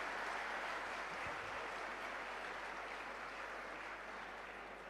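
Steady applause from a large audience at a student event in Karachi fills the space as a dense, continuous wash of clapping that holds level throughout, with no voices over it.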